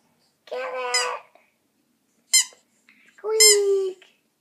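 Rubber squeaky toy squeaked for a chihuahua, three separate squeals with bright stacked tones, the first long, the second short and sharp, the third long and wavering, close and loud with no talking.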